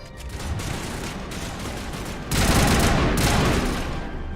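Dense video game gunfire rattles in sustained bursts, growing louder and heavier halfway through, with no talk over it.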